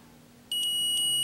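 A multimeter's continuity buzzer sounds on a shorted MOSFET of an Nvidia GeForce 9400 GT 512 MB graphics card, starting suddenly after a short quiet and then holding as one steady, close, piercing tone.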